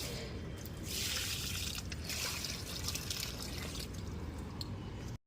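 Water is poured onto a tulsi plant in a home courtyard, making a soft, continuous trickle and splash that stays quiet throughout.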